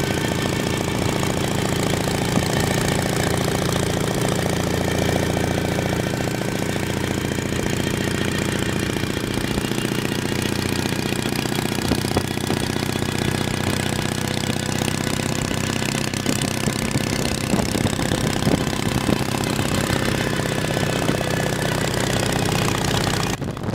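A pre-war BMW R 32 motorcycle engine runs steadily and loudly throughout, with a rough, knocking, thumping rhythm close by and no talking.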